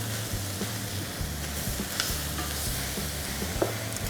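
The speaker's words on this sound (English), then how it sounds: "So it's just a matter of wilting that down" Fresh spinach leaves wilting in a hot pan, hissing and sizzling steadily up close, with a soft rhythmic stirring and scraping. There is no talk.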